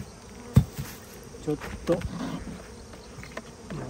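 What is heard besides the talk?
Western honeybees buzzing in a hive box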